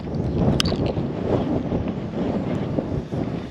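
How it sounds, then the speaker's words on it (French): Steady wind buffeting the microphone on a canal bank while fishing, a broad low rumbling roar that persists through the whole stretch with slight gusting swells and no voices. "Le vent est face à moi, c'est compliqué."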